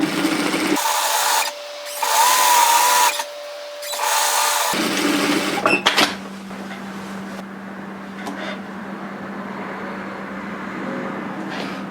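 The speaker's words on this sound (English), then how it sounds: "we're going to sew a seam at 1 centimetre on the sides." Sewing machine stitching a 1 cm side seam on a dress: two loud bursts of fast whirring stitching separated by brief pauses, then a clunk and a quieter steady hum with light handling noises.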